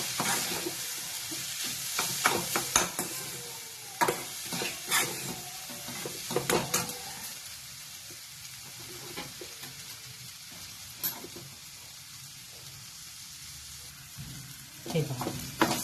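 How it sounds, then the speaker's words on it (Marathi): Potatoes sauté in a pan for cutlets, a soft steady sizzle with scraping stir strokes from a spatula, close and moderately quiet, with no talking. "आता हे पण चांगलं 1-2-3 मिनिटं परतून घ्यायचं"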